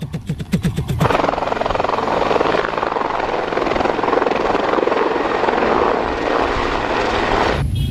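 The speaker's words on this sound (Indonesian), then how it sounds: "Kalau yang ini helikopter angkatan udara." An air force helicopter takes off, its rotor chopping in a quick rhythm before the engine surges into a loud, steady roar that fills the scene up close for several seconds.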